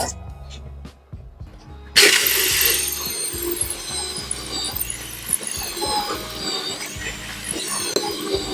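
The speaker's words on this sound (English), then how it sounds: "So what I'm doing is I'm countersinking these holes." A drill with a countersink bit bores into wooden boards for a wine rack. A quiet pause gives way to loud, close grinding and whirring that rises and falls in uneven bursts.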